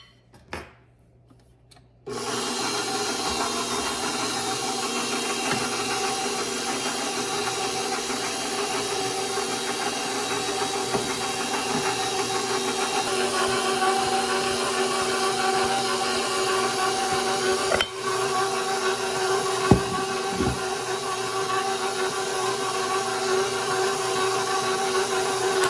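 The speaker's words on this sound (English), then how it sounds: "I'm going to mix them on a low speed, and the dough will be kind of soft" Gingersnap dough being mixed on low speed with an electric mixer: after a short quiet start, a steady whirring motor hum with scraping texture runs continuously, with a couple of brief knocks later on.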